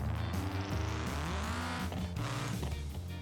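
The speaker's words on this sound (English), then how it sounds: "Quite a loud car, actually." An SBR4 Street Tuned Edition car in the BeamNG driving game revs loudly and steadily, its engine note climbing and shifting through gears with no pause and no talking.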